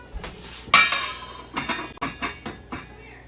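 A lid set onto a cooking pot for steaming dinner, a bright metallic clank followed by several lighter knocks and rattles as it settles, close and clear.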